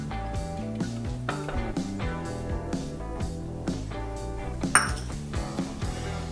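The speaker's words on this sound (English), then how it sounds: "I'm going to whisk it all together." A whisk combines onion powder and kosher salt in a bowl, with quick, rhythmic metallic clinks and ringing taps against the bowl, one sharper knock near the end.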